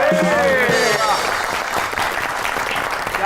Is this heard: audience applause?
yes